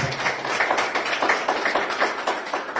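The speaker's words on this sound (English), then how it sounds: "let's give a big round of applause" Brisk clapping from a crowd welcoming the US ambassador at the opening of a California trade office in Yerevan, with quick, fairly close claps that continue steadily with no one talking.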